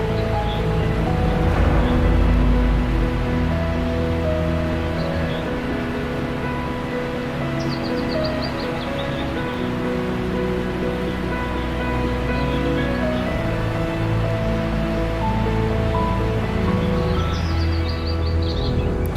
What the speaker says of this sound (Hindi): गिरता हुआ पानी और उसकी आवाज़ पूरे एनवायरनमेंट को फील करा देती है